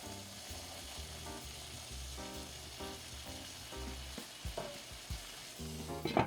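A croque monsieur fries in butter in a pan with a steady, moderate sizzle and crackle, broken by repeated rhythmic scraping and stirring sounds and a few sharper spatters near the end.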